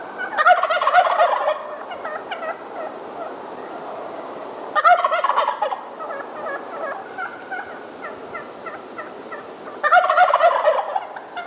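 Wild Merriam's turkeys gobble in the mountains at dawn, three loud bursts of rattling gobbles spaced several seconds apart, with fainter distant gobbling and calls between them.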